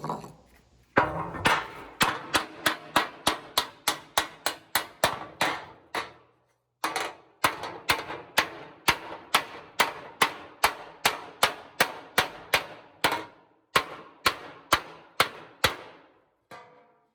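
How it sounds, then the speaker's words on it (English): Close, sharp hammer taps on a sheet metal panel walking out tucks along its edge, a steady rapid run of ringing metallic blows with a brief pause midway, then more evenly spaced strikes. "So you're gonna tap, tap, tap, tap, tap all the way out, walk it out"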